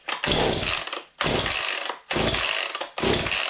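A chainsaw engine fires and revs in four loud, closely spaced bursts, each roaring for under a second with brief gaps between, during starting after a fault diagnosis, with no speech.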